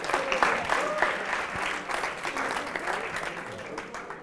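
Audience applause for a school quiz team on a Catalan television quiz show, a steady wash of clapping from a studio crowd with a presenter's voice over it.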